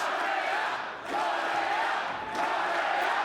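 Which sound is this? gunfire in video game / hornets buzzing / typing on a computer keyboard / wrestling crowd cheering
wrestling crowd cheering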